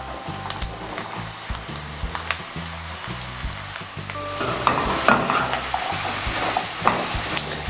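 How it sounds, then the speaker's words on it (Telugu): Ridge gourd pieces fry in a pan for a moong dal curry. A continuous sizzle runs under rhythmic clatter from stirring or the burner, and it grows louder halfway through. There is no speech. "బీరకాయ ముక్కలు బాగా ఫ్రై అయ్యేంత వరకు కూడా వేయించుకోవాలి."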